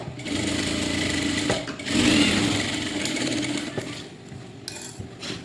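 A sewing machine stitches a blouse lining along the neckline at a quarter-inch seam, a steady close mechanical whirr running almost continuously with a brief pause and slight slowdown near the end.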